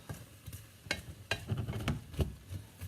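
Onions and celery fry in a pan for a chicken curry, giving a quiet sizzle broken by several soft scraping stirs at uneven intervals.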